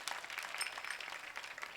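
An audience claps at a kirtan during the Sant Dnyaneshwar Maharaj sanjeevan samadhi ceremony, a brief, distant and fairly soft patter of many hands.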